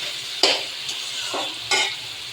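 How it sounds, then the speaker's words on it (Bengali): Sea crab curry sizzling in a pan as a little water goes in, giving quiet frying hiss broken by three sharp bursts of spitting and bubbling. "আমি অল্প করে জল দিয়ে একটা ঝোল বেঁধে নিই"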